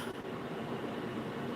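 A train passing by makes a steady broadband rumble with a faint squealing tone, continuous and fairly loud, alone without voices.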